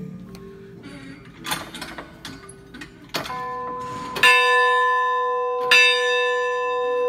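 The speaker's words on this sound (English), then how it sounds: "Adam, would you like to ring that bell for me?" A church bell in the sanctuary of First Baptist Church is struck twice after some shuffling and clunks, each strike loud and close with a long ringing decay that hangs in the room.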